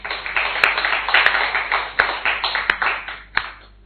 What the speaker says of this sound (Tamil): கரங்களை தட்டி கர்த்தரை மகிமைப்படுத்தும்.